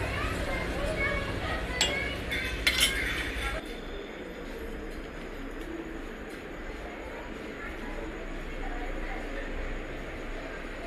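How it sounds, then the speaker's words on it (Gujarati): A spoon clinks briefly against a cup while stirring coffee into milk, a few light metallic taps early on followed by steady low background noise. "ચમચી વડે બરાબર મિક્સિંગ કરી લેવાનું દૂધ"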